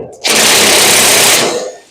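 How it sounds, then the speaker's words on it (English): A cordless drill with a weakening battery whirs loudly and steadily for about a second and a half, then winds down; no talking. "I think the battery on this drill's dying."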